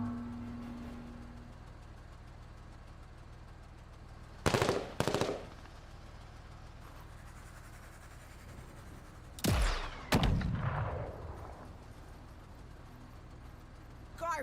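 Machine gun fire in a video game, heard as two pairs of short loud bursts over a low engine-like hum.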